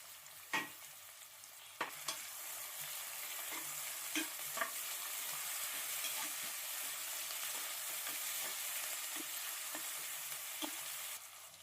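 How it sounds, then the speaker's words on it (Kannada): Chopped onion and tomato with mint and coriander leaves sizzle steadily in oil in a pan, with a spoon now and then scraping and clacking through the mix during a continuous close frying hiss. "ಆನಿಯನ್ ಬ್ರೌನ್ ಕಲರ್ ಆಗೋವರೆಗೂ ಫ್ರೈ ಆಗಬೇಕು"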